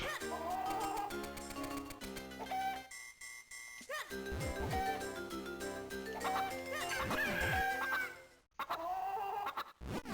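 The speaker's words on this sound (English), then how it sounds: "Where the fuck did the chicken end up?" A chicken clucks in a video game, with short clucking calls set over bright, tonal game music that breaks off briefly a couple of times.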